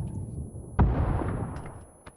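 A single sharp explosive blast booms out in the video game PUBG on the Sanhok map, followed by a rumbling decay and a faint click near the end.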